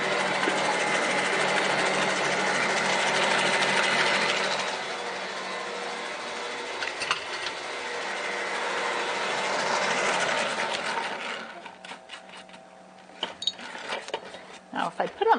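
Bosch stand mixer whirring steadily as it beats sugar into cake batter, a continuous motor drone for about eleven seconds before it stops, leaving scattered clinks and handling noises.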